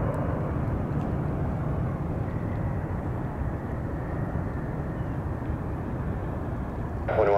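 Heavy jet airliners at San Francisco International Airport roar steadily as one after another passes, a loud continuous broadband rumble that holds for the whole stretch with no speech.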